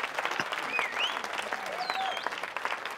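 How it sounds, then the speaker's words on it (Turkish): Steady applause from a crowd, dense clapping throughout with a few faint whistles or cheers rising over it. "Burada bir alkış."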